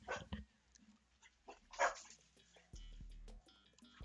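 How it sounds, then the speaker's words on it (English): A dog yips and whimpers in the background while being fed, with a few short barks scattered over a low electronic hum and other faint household noises. "My dog is getting fed."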